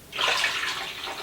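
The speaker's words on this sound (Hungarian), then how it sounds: "egy picit hagyom felforrósodni, és teszek hozzá vizet." Cold water from a tap splashes into a cooking pot of stuffed peppers over heat, a short, bright gush with no voices.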